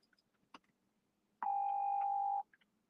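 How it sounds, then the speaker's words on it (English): A phone rings once with a single steady electronic tone lasting about a second, clear and fairly close against a quiet background, preceded by a faint click and with no speech. "That's my other phone."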